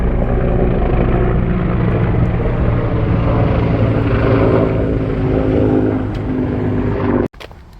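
Dense, loud roaring noise from a jet aircraft flying overhead near Torrey Pines State Reserve in San Diego, held steady for about seven seconds before it drops off sharply at the end.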